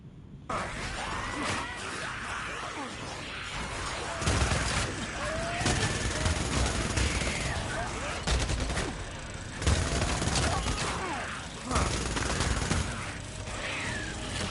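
Sustained gunfire from the Growler weapon in a video game, dense, continuous rattling bursts that swell and ease over several seconds, loud and close, with occasional voices under the shooting.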